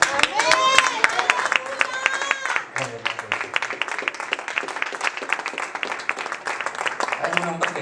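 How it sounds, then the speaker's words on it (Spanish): A church congregation claps together in steady applause for the Lord, loud and close, with voices and music mixed in throughout. "y denle, pero hermano, una alabanza de aplauso al Señor."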